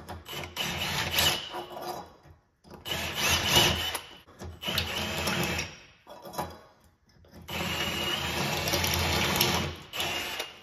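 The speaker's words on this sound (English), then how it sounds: "clean up some burrs on the back side with a unibit" A drill spinning a unibit step bit to deburr the back side of a drilled metal hole during air intake installation on a Subaru-engined VW bus, running in three steady bursts separated by short pauses, close and fairly loud.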